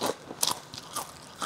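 Crunchy homemade tempeh chips bitten and chewed, giving several sharp crisp crunches spaced out over a second and a half, close and fairly loud with no talk.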